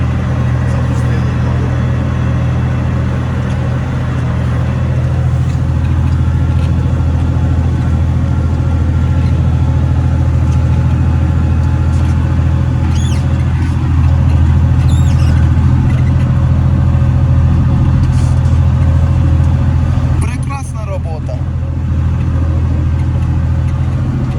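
An MTZ 1221 tractor running at 1600 rpm in third gear, third range, while ploughing; a loud, steady low engine drone continues throughout, with brief clatter near the end.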